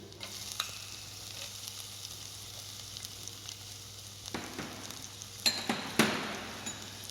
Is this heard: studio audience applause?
no